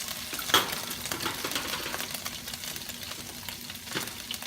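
Ginger frying in a hot pan for Mongolian beef, a steady soft sizzle running throughout with a brief louder clink or stir near the start and light stirring scrapes, no talking.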